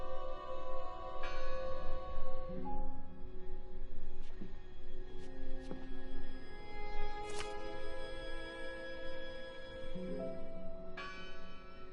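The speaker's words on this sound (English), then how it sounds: "Listen! The bell!" A church bell tolls in the video game Draugen, several clear ringing strikes with long metallic decay, heard at a moderate distance over a quiet ambient background.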